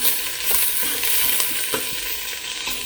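Celery and onions sautéing in a hot pot, a steady close sizzle and crackle with a few soft scrape and stir clicks scattered throughout, no talking.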